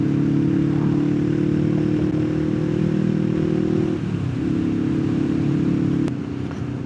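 A motorcycle engine hums steadily on a dry, sunny spring ride along the Wild Atlantic coast, close and loud, with the pitch dipping briefly mid-ride before settling back.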